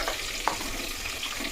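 Onions with green and dried chillies hit hot oil already seasoned with black cumin and coriander for a pumpkin chana dal, giving a brief, steady close sizzle with one sharp stirring tick.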